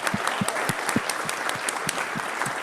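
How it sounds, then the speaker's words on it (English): Sparse, distinct handclaps ring out in a fairly regular rhythm, like a small group applauding up close at a Rotary club meeting. "May you give yourself a round of applause"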